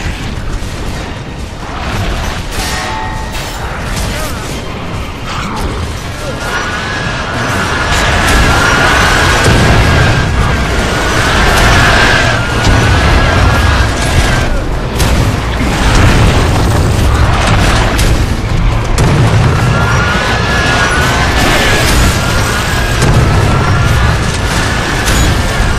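Boomshot rounds in Gears of War 3 slam into stone columns, producing repeated heavy booming blasts and crumbling debris over a dense, loud wall of combat noise, with shouted voices throughout.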